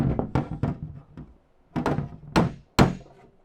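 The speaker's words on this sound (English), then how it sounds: "hammer on dolly, like high pitched ting" Hammer blows on a dolly block against a welded lower door panel of a 1971 Dodge Demon, sharp metallic taps in short bursts, then three louder ringing strikes spaced apart, close up with no talk.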